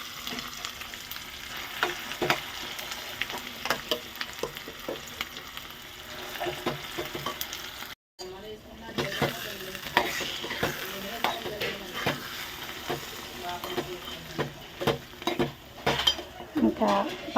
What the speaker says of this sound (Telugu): ఇలా పోపు పెట్టేసుకోవడము.